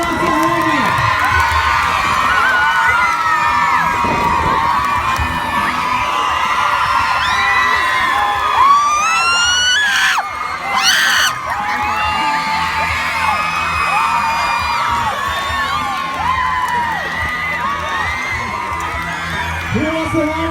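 A school assembly crowd of children cheers, whoops and yells for a bike rider, loud and sustained throughout, with brief louder shrieks near the middle.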